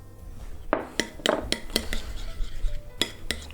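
A utensil clinks and scrapes through heavy cream and salt being mixed for cinnamon toast shrimp, giving a string of sharp, close metallic taps and scrapes at an uneven rhythm with no voices.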